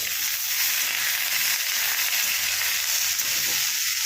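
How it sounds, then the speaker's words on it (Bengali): Potatoes fry hard on a high flame in a pan with slit green chillies and capsicum, giving a steady, loud, dense sizzle that holds evenly throughout with no talk over it. "আলুগুলো 2 মিনিট ভেজে নিয়ে তেজ আঁচেই রেখেছি।"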